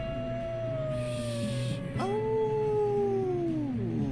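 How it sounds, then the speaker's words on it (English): Wolves howl in Red Dead Redemption 2: long, drawn-out gliding howls, one fading around two seconds as another rises and slowly falls, layered with a second voice and steady game ambience, close and fairly loud. "Oh, wolves."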